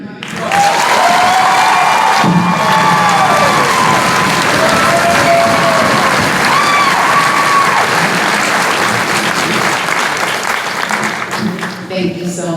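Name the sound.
crowd applause and cheering after a speech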